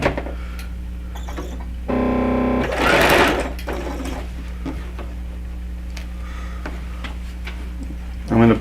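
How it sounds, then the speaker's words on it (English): A sewing machine runs steadily, humming and ticking as it stitches a quarter-inch seam along one side of a quilted diamond pillow, with a brief louder whir partway through, close and continuous. "I'm just going to do a 1/4 inch seam on this one side"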